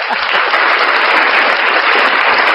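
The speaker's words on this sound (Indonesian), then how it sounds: "Tepuk tangan ke Emil." Applause for Emil, a loud, dense burst of clapping that stays steady and close throughout, with no talking over it.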